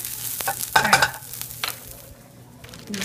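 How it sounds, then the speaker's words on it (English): Onions caramelize in a pan with a quiet sizzle, punctuated by several clattering utensil scrapes early on before settling into a softer hiss. "I'm caramelizing some onions right here"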